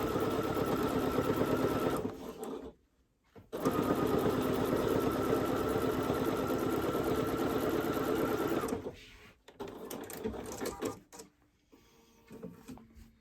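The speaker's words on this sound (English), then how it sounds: "And I'm just going to straight stitch this." A Bernina sewing machine straight stitching fabric, running in a steady rapid mechanical whir that pauses briefly, resumes for several seconds, then slows into shorter stop-start bursts.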